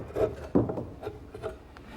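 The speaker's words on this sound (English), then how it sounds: "the back saw is the perfect tool to make that notch" A back saw rasps through wood stock clamped in a vise, cutting a notch with a few short, close strokes, quiet and uneven.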